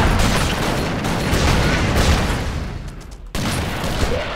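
Dense bursts of video game gunfire and booming explosions in Expendabros crowd together loudly, with a brief lull before the barrage resumes.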